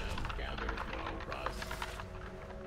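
Rapid clicking of a computer keyboard during a League of Legends match, steady and close under busy game sounds and some voice.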